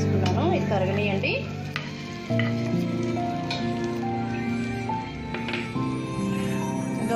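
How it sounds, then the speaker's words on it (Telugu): Ghee melting in a hot kadai for wheat rava halwa: a steady sizzle and faint crackle, with clinks of a utensil against the pan. "ఇదిగోండి ఘీ వేసుకున్నాను, ఇది కరగనీయండి."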